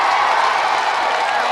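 A rally audience applauds Akbar Owaisi, a loud, dense and steady roar of clapping and crowd noise filling the whole moment.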